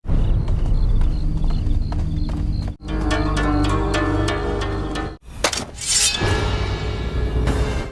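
Horse hooves clip-clop steadily toward a horse-drawn carriage, loud and close, with dense layered background sound and two brief breaks in the middle.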